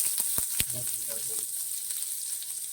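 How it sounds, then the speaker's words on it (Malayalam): Shallots sizzle in hot oil as tempering for an Angamaly-style mango curry: a steady, close frying crackle with a few sharp pops and light clicks of a spoon against the pan. "അതിനാണ് ഈ ചെറുള്ളി ഇട്ട് നമ്മൾ താളിക്കുന്നത്"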